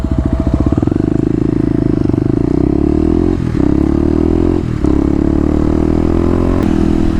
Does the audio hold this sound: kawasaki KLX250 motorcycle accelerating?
yes